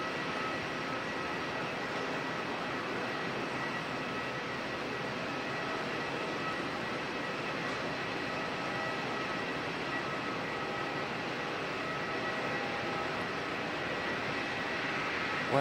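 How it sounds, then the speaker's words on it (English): A Qantas Boeing 787 airliner lands in a crosswind at Auckland Airport, its broad steady engine and airflow roar filling the scene with even, continuous loudness from start to finish and no talk. "Go with this beautiful looking Qantas 787."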